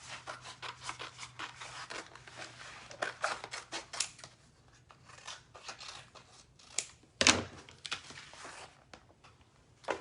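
Scissors snip through a rub-on transfer sheet, cutting a small piece out, with close, rapid rustling and crisp cutting strokes and one sharper loud snip near the end.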